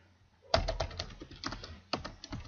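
Keys clatter on a computer keyboard in quick irregular bursts, close and fairly soft, with short pauses between runs of typing and no voice present.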